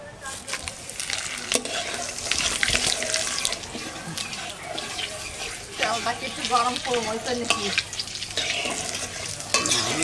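Bay leaf, dried red chilies and whole cumin crackling in hot oil for a tempering, a busy close sizzle with stirring clatter and splashy bursts, with voices talking at times.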